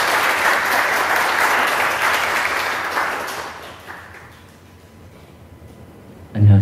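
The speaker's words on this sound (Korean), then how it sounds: "우리 다 같이 박수를 잠깐 인사를 나누도록 하겠습니다." A church congregation at a Sunday morning service applauds to greet a visiting pastor: steady, dense clapping from a full room that gradually thins and fades, ending with a low thump.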